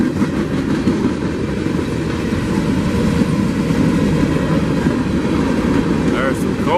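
A freight train with coal cars carrying steel coils rumbles steadily past close by in Sweetwater, Tennessee, a continuous heavy roar with faint clickety-clack of wheels over rail joints.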